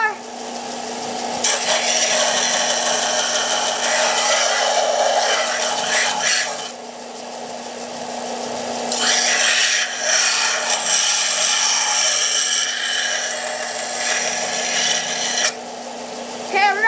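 A hand-forged blade is being sharpened in two long bursts of harsh, gritty rasping, close and loud, separated by a short pause with a low hum underneath.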